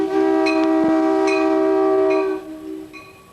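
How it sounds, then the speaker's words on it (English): The last train from Tacoma passes with a long, steady horn blast, loud and sustained with a rumbling undertone, then fades and cuts off, followed by a faint shorter echoing note. "the last train from Tacoma passes the Kingdom."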